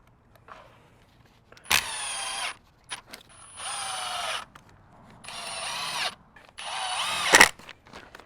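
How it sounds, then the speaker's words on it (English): Power drill driving screws into a wooden furring strip on a hinged hoop house frame for a raised garden bed; four separate whirring bursts of one to two seconds each, close and clear, with faint handling noises between them and no talk. "Just like those, I already have them pre-drilled, so all I got to do is drive the screws in."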